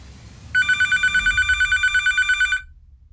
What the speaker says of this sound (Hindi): उसे एक अजीब फ़ोन कॉल आती है।